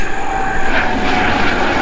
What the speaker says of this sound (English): before the helicopter went overhead